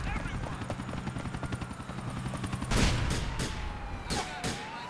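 Helicopter in the video game GTA IV, a rhythmic rotor chop under gameplay noise, followed by several sharp bursts of gunfire near the end, with talk in the background.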